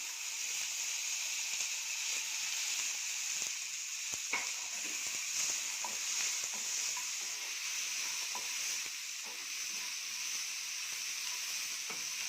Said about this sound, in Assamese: এতিয়া মই এই কুটি লোৱা পিঁয়াজখিনি ৰঙচুৱাকৈ ভাজি ল'ম